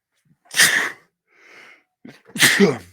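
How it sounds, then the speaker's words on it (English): A person builds up with a sharp inhale, then lets out a loud, close sneeze, followed by a breath and a second forceful sneeze. "Hold on, I got to sneeze."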